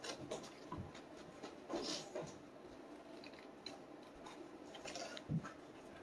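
Scissors cut card stock for a handmade gift box, giving soft, scattered snips and ticks at close range over a quiet background with no speech.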